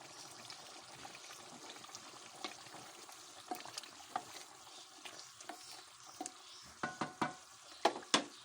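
Cumin seeds and green chillies frying in a pan for chana dal kofta curry, a soft steady sizzle with scattered stirring scrapes and a few louder clicks toward the end, heard alone with no talk.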